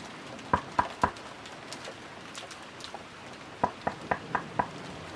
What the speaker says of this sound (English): but better knock anyway